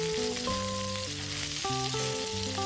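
Rabbit pieces browning in a hot pot on a stove, with a steady sizzle and frying hiss running throughout beneath a tonal melody of music.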